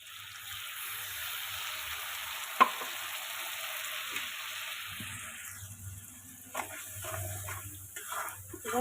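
Chicken cooking with a ground spice paste in a pan, with a steady hissing sizzle that gives way to stirring and scraping sounds, fairly quiet, and no one speaking.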